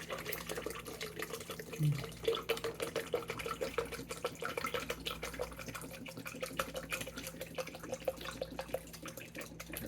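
Aloe vera drink poured out of a bottle, a steady liquid trickle and splash running for several seconds, fairly close with no talk over it.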